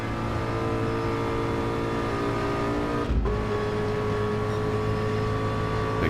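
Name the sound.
Ford race car engine in Gran Turismo 7 video game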